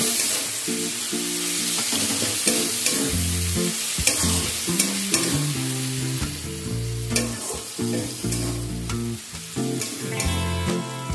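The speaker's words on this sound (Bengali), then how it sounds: "টমেটোটাকেও মশলার সাথে কষিয়ে নেব যাতে টমেটোটা গলে যায়।" Chopped tomato sautés with spices in a hot pan for an egg and fenugreek curry, giving a steady sizzle and stirring scrape under fairly loud background music.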